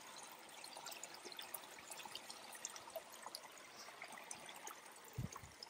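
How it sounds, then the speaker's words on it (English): Water trickles through a culvert hole and out into a roadside ditch feeding a nearby creek, a soft steady outdoor babble heard close, with a brief low thump near the end. "you can see the water flowing through the hole."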